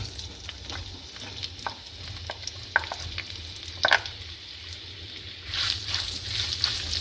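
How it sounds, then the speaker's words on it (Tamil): Onions frying and stirred in a pan with whole spices such as cinnamon and cloves, a soft continuous sizzle with scattered spoon scrapes and taps, close and moderately quiet, growing brighter toward the end. "வெங்காயத்தை நல்லா கோல்டன் ப்ரௌன் வர அளவுக்கு வறுக்கணும்."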